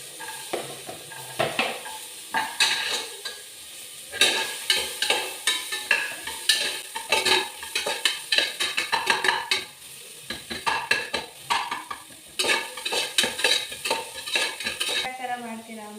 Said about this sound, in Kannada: ಇದಕ್ಕೆ ಫಸ್ಟು ನಾನು ಈರುಳ್ಳಿ ಎಲ್ಲ ಕ್ಯಾರೆಟ್ನ ಹಾಕ್ಕೊತಾ ಇದ್ದೀನಿ, ಯಾಕಂದರೆ ಕ್ಯಾರೆಟ್ ಒಂಚೂರು ಫ್ರೈ ಆಗಲಿ ಅಂತ.